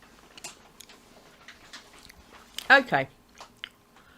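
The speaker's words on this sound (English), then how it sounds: "You can hear me munch now." Munching on a sweet watermelon slice, a few soft crunchy bites close to the mic, with brief talk before and around them.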